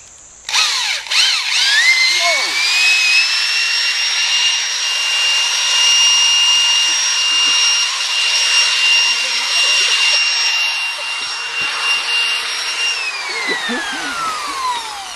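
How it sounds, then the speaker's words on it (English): A power drill whines loudly and steadily for about twelve seconds into a tree to check a termite nest, its pitch rising as it starts and dropping as it winds down. "Steve, our termite model, is going to drill this nest and just confirm if there is a problem"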